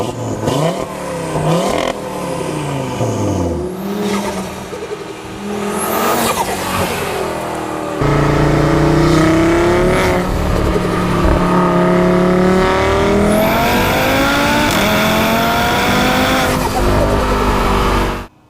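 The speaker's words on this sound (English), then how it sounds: "an updated sound compilation of the RS3" Loud Stage 2 Audi RS3 engine on E85 revving hard through gear changes while driving, rising and falling roars with tire squeals, close and continuous, building to a sustained high-pitched drone.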